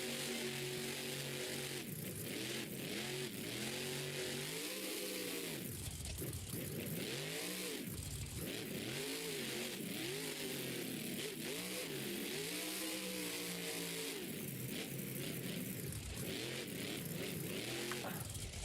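The Avenger monster truck's big engine revving hard and loud, with repeated rising and falling throttle blips and deep, rough roars that sweep up and down in pitch throughout.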